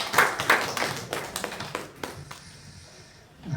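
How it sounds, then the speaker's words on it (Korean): A church congregation claps in welcome for visiting family members during a Sunday worship service, a scattered burst of hand claps that fades out after a couple of seconds. "제가 우리 한번 박수로 오신 분들을 박수로 한번 하겠습니다."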